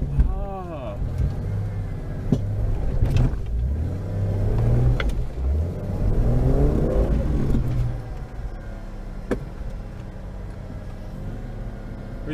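Off-road vehicle with a shortened exhaust revving on a creek trail, the engine surging up and down in a few loud rising pulls between quieter idle stretches, with people talking over it.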